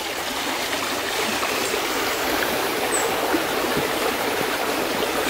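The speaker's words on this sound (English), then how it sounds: "just the sound of running water is just so peaceful" A stream in the Yorkshire Dales countryside runs steadily, a constant close rushing and trickling of water with no break and no voices.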